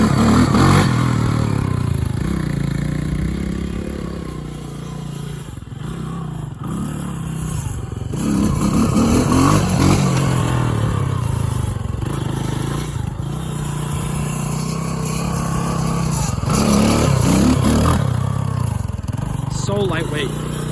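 A 1986 Honda ATC200X three-wheeler engine revs hard during a wheelie, a loud continuous motor drone that rises and falls in pitch with throttle changes, close to the microphone throughout.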